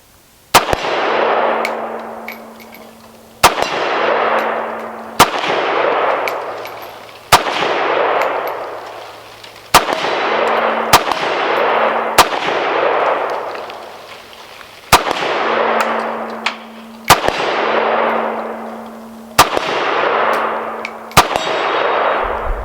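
A SAM7 SF AK rifle fires single shots at a steel target outdoors, each sharp crack followed by a ringing metallic clang and a long fading echo, roughly a dozen spaced shots, loud and close.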